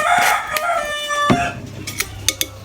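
A rooster's crow rings out nearby, followed by a few sharp clucks and clicks as it trails off.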